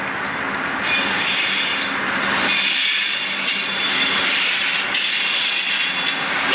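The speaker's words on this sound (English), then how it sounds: "Amtrak train number 22, the Texas Eagle, with the Amtrak Heritage train and equipment" Amtrak train 22, the Texas Eagle, with Amtrak Heritage locomotives and equipment, rushing past at close range with a loud, steady roar and rhythmic rubbing, grinding rail noise throughout.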